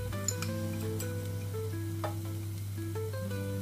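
Ground chilli, cumin, coriander and turmeric frying in hot oil give a soft, steady sizzle beneath a tonal melody and a low constant hum.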